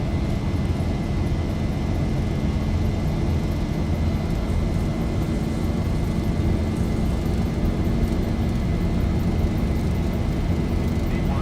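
A Boeing 737 ZIBO Mod rolls for takeoff in a flight simulator at La Palma, its engines giving a loud, steady, constant roar with rumbling runway noise beneath.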